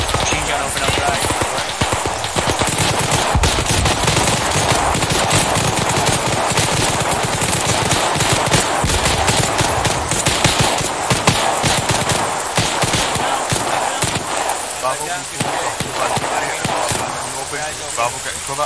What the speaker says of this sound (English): Machine gun open up right.